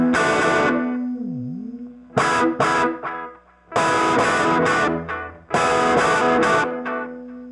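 Electric guitar chords played through a Catalinbread Belle Epoch tape echo pedal, each burst followed by repeating delayed trails that fade out between phrases, the delay time growing longer.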